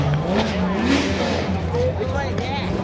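Car engines rev loudly at a night car meet, with rising and falling throttle blips close by, mixed with crowd chatter and voices.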